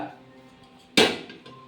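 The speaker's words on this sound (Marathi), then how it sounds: "आता तो भांडा ठेवलेला आहे." A cooking pot for milk halwa is set down on a gas stove with a single close, sharp clunk that rings briefly and fades, then quiet kitchen background.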